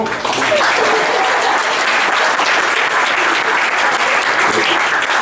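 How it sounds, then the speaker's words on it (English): Loud, steady audience applause at a college student-athlete awards ceremony, a thick continuous wash of clapping from a large crowd sustained without pause. "I want to give a round of applause for them and everything that they do"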